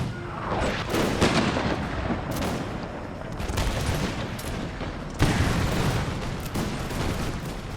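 Howitzers and musket volleys boom in a battle from an American Revolution strategy game, deep thuds and crackling fire rolling continuously at mid distance.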